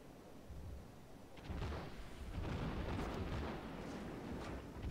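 Destroyer guns in World of Warships fire in muffled, rolling booms that swell into a sustained low roar of naval gunfire, fairly faint and without speech.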